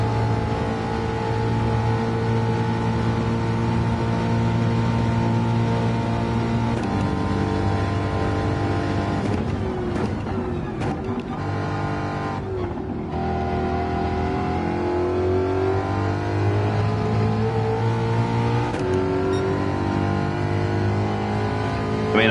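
Racing car engine in the video game Motorstorm, a loud continuous roar that rises and falls through gear changes and revs, with brief dips as the car brakes and accelerates again.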